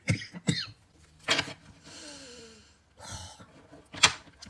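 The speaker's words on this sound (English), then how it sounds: "Because that might be why I'm coughing so much." A person coughs several times up close, in short harsh bursts separated by pauses, with faint mechanical clicks and shuffling between them.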